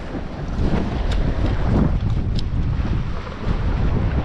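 Strong wind buffets the microphone in a continuous loud roar beside open water while fishing from a muddy bank, steady throughout with slight gusty swells.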